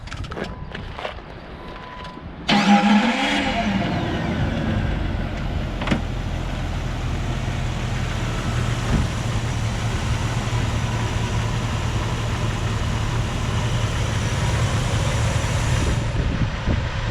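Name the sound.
2003 Jeep Wrangler Rubicon engine starting and idling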